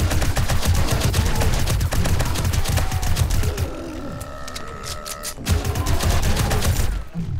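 Dense bursts of rapid automatic gunfire from AP rounds in the survival video game 7 Days to Die, loud and close, briefly pausing midway before the rattling volleys resume, with no speech.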